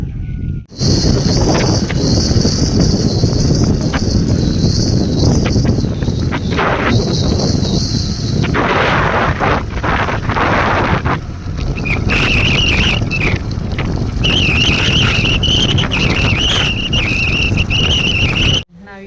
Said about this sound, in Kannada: ಫುಲ್ ಮಳಿ ಗಾಳಿ ಐತ್ರಿ